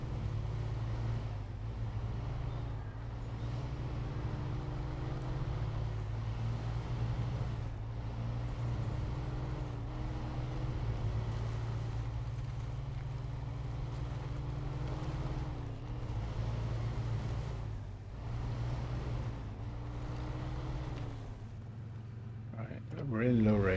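Truck engine in SnowRunner on hard mode in low ratio, a steady low rumble that holds for the whole stretch while easing over boulder-strewn ground, with someone talking over it.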